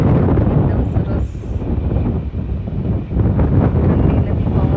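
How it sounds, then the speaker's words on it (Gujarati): Wind at a local beach in Australia blusters loudly against the microphone in a continuous low rumble, with gusts rising and easing and surf faintly underneath. "પવન છે થોડો, પણ મજા આવે એવો પવન છે."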